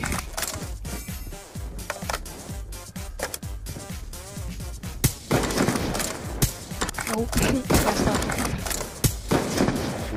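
Rapid gunfire from Call of Duty Black Ops 2 on Xbox 360 fills the scene, with dense bursts of shots and loud cracks running throughout and growing heavier in the second half, while a voice speaks over the battle.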